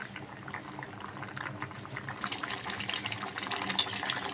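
A pot of moong dal with tamarind water bubbles at a steady boil, a close, continuous popping and gurgling that grows livelier over the few seconds, with no talk over it.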